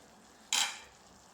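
Brinjal being stirred through sauce in a pan, a single short scraping burst of spoon against metal rising from a quiet background, close and alone.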